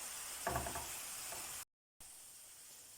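Onions and mushrooms frying in a pan, a steady broadband sizzle with a brief scraping stir near the start, briefly cut to silence before the sizzle resumes.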